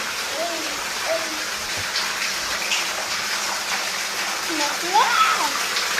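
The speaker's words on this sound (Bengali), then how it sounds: "বৃষ্টির এই ফোঁটাটা আসলে অসাধারণ।" Steady rain hisses and patters on surfaces while a child plays out in it, with voices and brief high vocal sounds rising over the constant wash of water.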